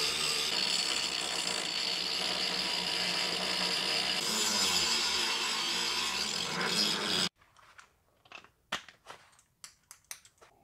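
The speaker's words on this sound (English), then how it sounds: "So the next thing I got to do is just come in here and grind out all the" A die grinder grinds excess metal out of cut steel tubing, a loud continuous whine for about seven seconds that cuts off abruptly, followed by a few short, sharp bursts of grinding.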